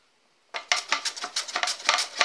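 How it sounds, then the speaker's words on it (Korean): Potatoes being shredded into even strips on a hand grater, a quick run of scraping strokes starting after a brief silence, close and fairly loud, with no voices. "강판으로 이렇게 하시면 굳이 뭐 칼질 못해도 균일한 감자채가 나옵니다"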